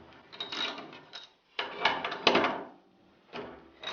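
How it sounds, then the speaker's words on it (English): Wrench work loosening the two front bolts on a Delta Jet Lock table saw fence, a few short bursts of scraping, ratcheting metal, close up with brief pauses between. "There's two bolts on the front that will loosen."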